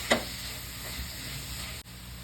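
Chopped tomatoes tip into spice masala frying in a pan for chicken kurma, giving a steady sizzle with a brief burst at the start, continuing close and even.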